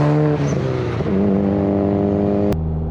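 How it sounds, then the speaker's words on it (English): Low, steady engine rumble from a Nissan Pulsar GTI-R, with strong harmonic drone shifting slightly in pitch as the engine note changes, loud and continuous throughout. "I think the low rumble just really suits the car"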